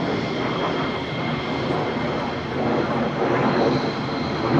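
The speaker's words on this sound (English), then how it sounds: "they need two F-35s circling over the top of me" Two F-35 fighter jets circling overhead near RAF Lakenheath give a continuous broad roar that swells slightly toward the end, steady and fairly loud without a clear pass-by.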